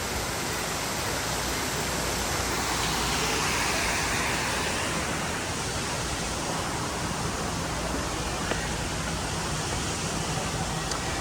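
A waterfall beside the end of a long water slide at the Hilton Hawaiian Village resort in Waikiki, a steady broadband rush of falling water that fills the whole scene at an even, fairly loud level.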